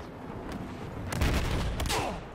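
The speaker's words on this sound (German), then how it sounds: "Von wo kommen die Schüsse?" Gunfire in the multiplayer shooter Battlefield 4, a dense burst of shots and explosive cracks swelling in the middle and continuing to the end, fairly loud with no talk.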